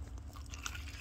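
A close, soft bite into a BBQ chicken drumstick that is slightly soggy rather than crispy, giving a brief muffled crunch and chewing with no talking.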